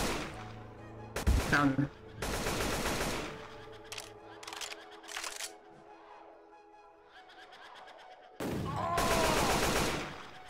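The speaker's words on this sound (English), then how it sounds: "let's just shoot until we find the right one." Loud bursts of rapid automatic gunfire from Left 4 Dead 2 come in several long volleys with brief single shots between them, while players talk and one briefly speaks over the firing.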